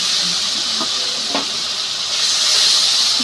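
Onion paste frying in hot oil with bay leaf, dried red chilli and whole garam masala for a Bengali rohu fish curry, a loud, steady, close hiss of sizzling with a couple of faint clicks.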